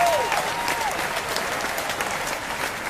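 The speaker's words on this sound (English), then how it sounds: "a big round of applause" Steady studio audience applause from a daytime advice talk show, a dense wash of clapping that holds at an even level for a few seconds with no voices over it.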